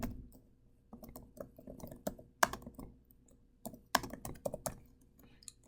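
Keys on a computer keyboard clack in irregular bursts as a name is entered into a form, with close, crisp strokes separated by short pauses in a quiet room.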